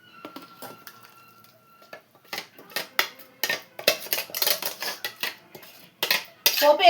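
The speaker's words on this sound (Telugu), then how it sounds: "చట్నీ గిన్నెలో తీసేసుకుందాం" Chutney is scooped from a pan into a bowl with a metal spoon, a string of irregular scraping clinks and taps on cookware that grows busier and louder toward the end, with no talk.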